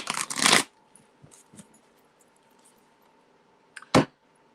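Tarot cards being shuffled by hand, a dense riffling burst lasting about half a second at the start, then quiet with faint soft rustles, and a second short, sharp card flutter near the end.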